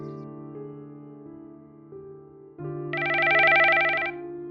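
A mobile phone rings with a melodic electronic ringtone: soft sustained tones at first, then a brighter, louder warbling pattern that swells before dropping back, heard alone and clearly.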